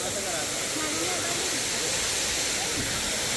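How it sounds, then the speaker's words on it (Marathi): A steady, loud roar of rushing water from a waterfall at Ramoji Film City fills the scene continuously, a broad hiss with no breaks. "असा काही धबधबा आहे इथे"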